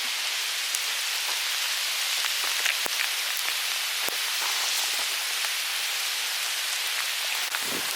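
Steady rain patters across the whole stretch on a hiking trail in the Monédières, Corrèze, France, a dense even hiss with scattered louder drops landing close by. No voices.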